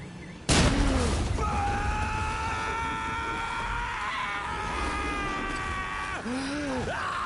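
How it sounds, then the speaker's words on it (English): A gas tanker blows up in the Far Cry 5 video game, giving a sudden loud blast that leads into a long, sustained roar with layered tonal ringing and rumbling debris noise, loud and continuous to the end. "The explosion will make people shit themselves!"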